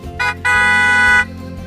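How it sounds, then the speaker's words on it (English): A car horn honks on the way to a church, sounded by the driver at someone sitting in the road: a short blast, then a longer, steady, loud blast, close by and with no talking. "The driver honked."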